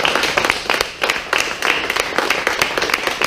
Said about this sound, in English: So I want to everybody please give these gentlemen a round of applause.